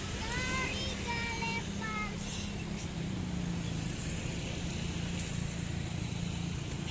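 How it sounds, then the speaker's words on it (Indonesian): A Garuda Jaya tourist bus coming from the Pangandaran direction rumbles past at close range, its engine noise and road roar a steady, loud wash throughout, with a faint voice briefly heard early on. "Ada bus pariwisata dari arah Pangandaran."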